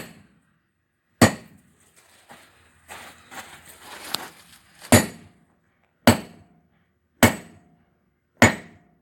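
Hammer blows on hot steel while forging a bottom fuller, sharp ringing strikes spaced about a second apart with a brief flurry of lighter taps between, each hit close and loud against a quiet forge.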